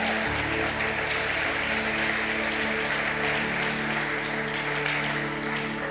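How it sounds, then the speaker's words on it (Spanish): A church congregation applauds steadily and loudly throughout, with a sustained organ or keyboard chord held beneath the clapping and no pauses. "denle un buen aplauso al Señor"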